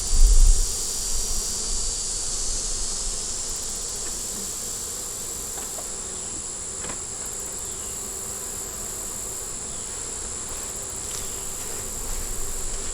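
Honey bees buzz steadily in an open hive, a dense, even drone of many wings close by with a brief louder rustle at the start.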